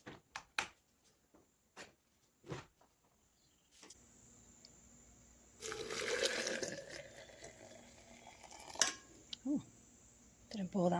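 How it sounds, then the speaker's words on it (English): A few sharp, light clicks and taps on a table come first, then water pours for a few seconds in a brief, hissing splash before more small knocks follow. "Didn't pour that much water."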